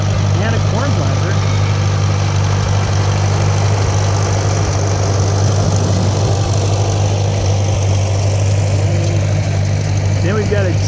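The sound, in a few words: old tractor engine rolling past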